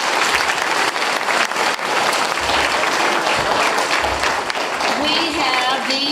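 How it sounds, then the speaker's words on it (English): Audience applause at a school concert, sustained and dense throughout, with scattered voices and cheers mixed into the steady clapping. "let's give them a big round of applause"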